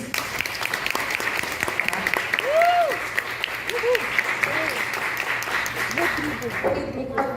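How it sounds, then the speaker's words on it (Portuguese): Applause for students at the closing of an afternoon lecture session, a dense sustained patter of clapping from an audience with voices and brief exclamations mixed in throughout. "peço uma salva de palmas para esses alunos"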